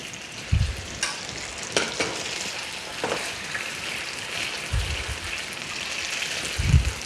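Tsukune chicken skewers finishing in a pan with glossy yakitori glaze, frying with a soft, continuous crackling sizzle broken by several louder spits and bubbling pops.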